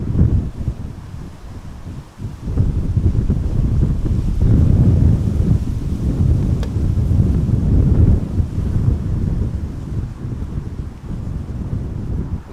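Strong wind buffets an outdoor microphone at Amsterdam Schiphol Airport beside the Kaagbaan runway, a loud continuous low roar with gusty surges and no voices.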